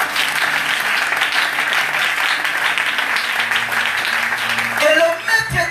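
A church congregation bursts into sustained, loud applause acclaiming the Lord, a dense wash of many hands clapping that continues throughout, thinning toward the end.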